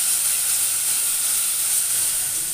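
Masala spices with coriander powder, salt and a splash of water frying in oil in a wok, a steady loud sizzling hiss that runs unbroken throughout without any voices.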